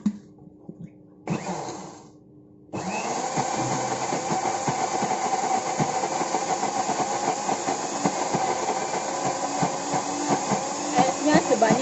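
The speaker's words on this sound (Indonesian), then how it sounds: "kita blender." An electric blender runs on a beef meatball mixture with egg, whirring in short bursts first and then settling into a steady, loud, continuous grinding roar.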